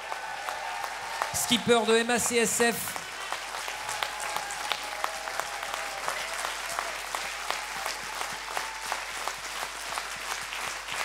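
Applause at a Vendée Globe 2024 press conference for sailor Isabelle Joschke, MACSF skipper. Steady moderate clapping runs throughout, with a brief spoken announcement over it near the start.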